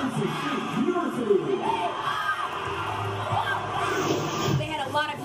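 A crowd at a dance team competition at Daytona Beach cheers, whoops and shouts continuously, a dense wash of voices with a few higher yells standing out, fairly loud and steady.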